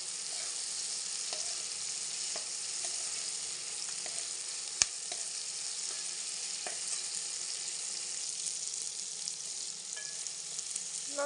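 Tomatoes cooking in a pan with onion and garlic for a potato and pea curry: an even, hissing sizzle runs throughout, fairly faint, with a few soft stirring taps and one sharp click, no voices.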